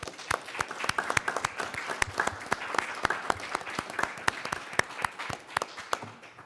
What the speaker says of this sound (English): I'd ask that the audience here today join us in a round of applause for his many years of service